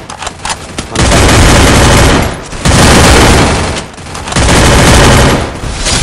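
Loud bursts of rapid video game gunfire come in three long sustained volleys separated by short pauses, with no talk over them.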